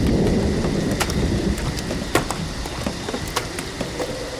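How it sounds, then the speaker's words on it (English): Rain and thunder sound effect for a school radio play set on a marsh at midnight: a steady wash of rainfall with sharp crackles and brief rumbling bursts scattered throughout, fairly close and continuous, no voices. "Rain?"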